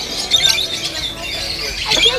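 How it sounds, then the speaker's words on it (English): Bird squawking and chirping right beside the microphone, two short sharp bursts near the start and near the end, with people talking nearby. "There's a bird right by my face."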